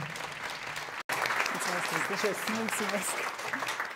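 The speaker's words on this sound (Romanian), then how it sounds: "Haideți să o primim cu aplauze" Applause from a conference audience fills the room for several seconds, steady clapping under a voice speaking briefly over it.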